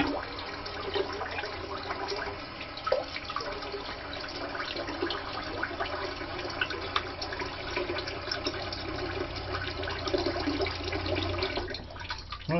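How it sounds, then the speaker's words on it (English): Running cold water flows steadily from a tap during a rinse after a wet shave, a constant close splashing hiss with small splashes and shifts, and no talking. "Cold water rinse."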